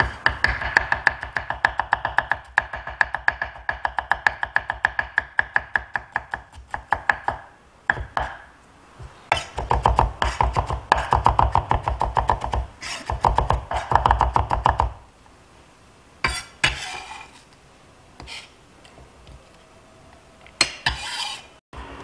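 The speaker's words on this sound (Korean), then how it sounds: "야채들은 이렇게 모두 다졌습니다." A knife mincing celery and other vegetables on a cutting board: long runs of fast, steady chopping taps, close and crisp, broken by short pauses and a few scattered knocks near the end, with no talking.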